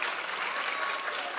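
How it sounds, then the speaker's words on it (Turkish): Steady audience applause at a children's theatre graduation ceremony, a dense wash of clapping filling the hall without a break, fairly close and even in loudness throughout. "Alkışlarla."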